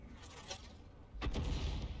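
SU-8 self-propelled artillery fires in a World of Tanks-style battle: a faint distant report, then a louder, deeper boom with a rumbling tail about a second later.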